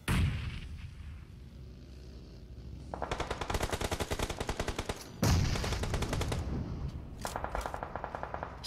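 Rapid automatic gunfire in a battle royale esports match, bursts of fast rattling shots with a sharp loud crack mid-way, continuing in several fierce volleys with no talk.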